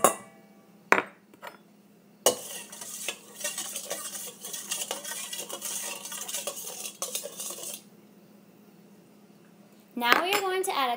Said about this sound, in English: Then we add our salt and our sugar and stir until it dissolves.